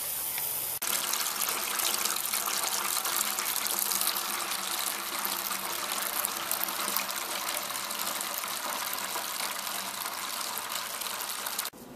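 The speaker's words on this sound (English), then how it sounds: "and at the same time I am watering the lawn" Water sprays steadily from a hose or sprinkler while a lawn is being watered, giving a loud, continuous hiss that runs unbroken for about twelve seconds with no talking.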